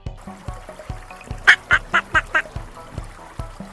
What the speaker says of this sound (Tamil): குவா குவா வாத்து